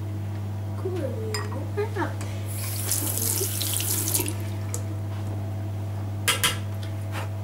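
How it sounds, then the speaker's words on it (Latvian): A bathroom tap runs steadily while a toothbrush is rinsed under it for a morning brushing routine, with splashing and a few light clinks against the sink over a low constant hum. "Trešais solis – noskalot zobu birsti zem ūdens."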